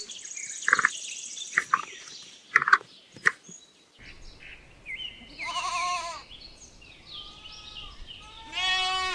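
Goat bleating, several wavering nasal calls that rise and fall, the later ones longer and louder, with faint chirpy sounds early on and no talk.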